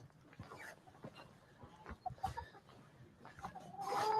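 Chickens clucking nearby in a loose, scattered series of short calls, fairly faint, with a louder burst near the end and no speech.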